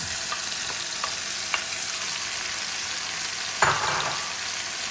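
Onions, garlic and herbs frying in a pan for a chicken and king prawn paella make a steady, close sizzle, with faint stirring taps and one louder scrape toward the end.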